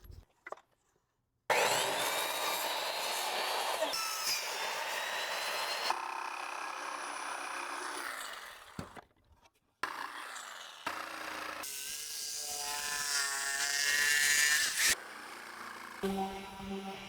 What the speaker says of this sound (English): So we'll cut that with a jigsaw